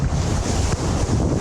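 Ocean surf and strong wind at the shore, a continuous loud rushing roar with heavy wind buffeting on the microphone and rolling wave wash, no voices.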